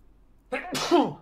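A single close sneeze, a quick breathy intake followed by a sharp burst, in an otherwise quiet room.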